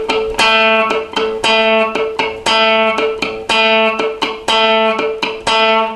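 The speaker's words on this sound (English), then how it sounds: "what I suggest you do is use the plectrum to pluck down on the note" Guitar notes picked with a plectrum in a quick down-down-up pattern, played sped up, repeat in tight rhythmic bursts with short gaps. The bursts stay steady and loud with no voice.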